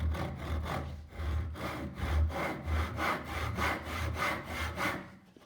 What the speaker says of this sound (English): with your tenon saw, cut